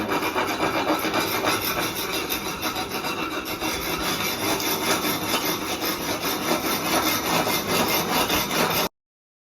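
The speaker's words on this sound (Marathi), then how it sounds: "ह्याच्यावरती दगड लागले, तो पहिला घासून काढायचं." Stone residue being scrubbed off floor tiles during building work, a steady, close rasping rub that continues without a break, with no voices.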